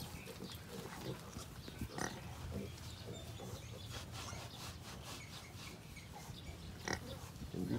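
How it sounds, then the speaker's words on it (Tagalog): A mother pig in a breeding pen gives low, repeated grunts and snorts close by, with rustling in the pen and faint voices in the background. "Ayun po si Mama Pig."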